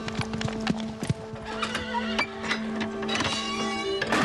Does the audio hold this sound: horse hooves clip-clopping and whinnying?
yes